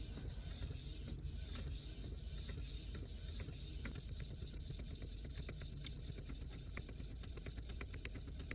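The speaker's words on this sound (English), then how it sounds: "And now it's gonna print." A home printer runs through a sticker print, a continuous low mechanical hum with whirring and faint rhythmic clicks of the feed mechanism, steady and quiet throughout.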